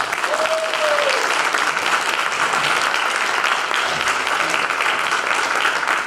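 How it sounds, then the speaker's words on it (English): An audience at a Story Night event applauds steadily, the dense clapping holding loud and even from start to finish with no pause. "give a round of applause to Alicia"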